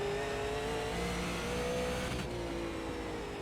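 Super late model race cars lapping in iRacing, a loud, continuous engine roar with rising and falling revs as cars pass, sustained without any talking.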